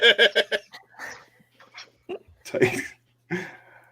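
A quick burst of sneezing, then voices talk briefly and someone reacts, with short pauses between utterances.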